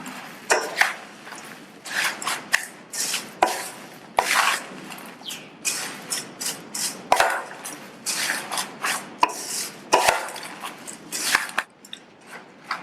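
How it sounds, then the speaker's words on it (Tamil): Snack ingredients tossed together with coconut oil in a bowl, making repeated dry scraping and rustling strokes with irregular rhythm, close and fairly clear, no talking. "இப்ப எல்லாம் ஒன்னா மிக்ஸ் ஆகுற மாதிரி நல்லா கலந்துடலாம்"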